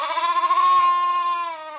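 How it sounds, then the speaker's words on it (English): A recorded sheep bleat played back through a speaker, one long wavering, nasal call that holds steady and then trails off, loud and close with no other sound around it. "They also play the sounds of sheep,"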